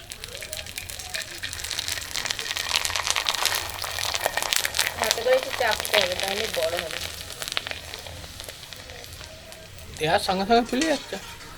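Rice-starch papad frying in hot oil, a crackling, bubbling sizzle that runs steadily with a louder burst near the end, while someone talks over it.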